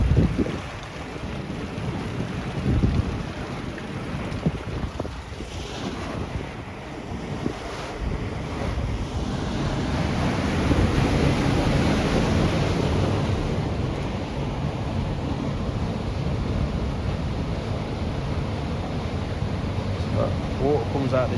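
Water rushing and waves lapping at the outflow side of a pond, a steady broadband wash blown about by wind noise on the microphone, with faint voices now and then.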